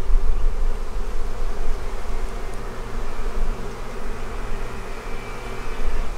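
Bees buzz loudly and continuously during a hive inspection, a dense close swarm hum that stays steady throughout with no talking.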